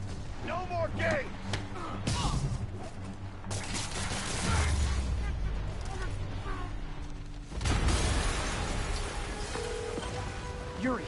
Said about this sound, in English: an explosion just...